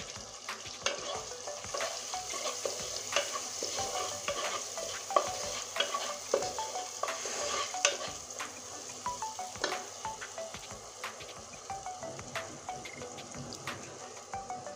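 Turmeric, cumin and coriander stir-fried in oil in a pan for a Bengali pomfret fish curry, giving a steady close sizzle with frequent scraping stirs throughout and no voices.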